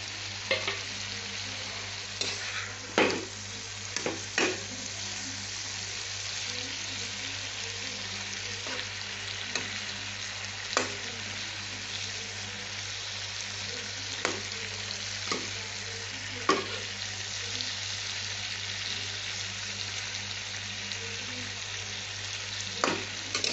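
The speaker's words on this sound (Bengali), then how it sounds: "এইবার আমি এই পটল, ভাজা পটলটা দিয়ে দিলাম।" Fried pointed gourd pieces go into a hot pan for a potato and pointed gourd curry with fritters, giving a quiet, continuous sizzle with occasional spatula scrapes and clinks as they are stirred.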